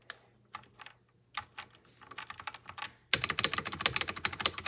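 Typing on a Womier WK61 keyboard: sparse, close key clacks that quicken into a dense, louder burst of rapid keystrokes, with no talk.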